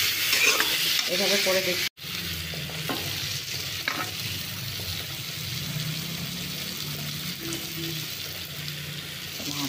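Eggplant and potato pieces frying with nigella seeds, giving a steady close sizzle with scraping stirs throughout and a brief break near the start; someone speaks briefly.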